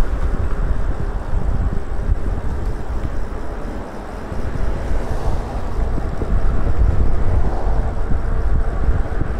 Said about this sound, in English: pretty good wind up here, as you can see the leaves blowing around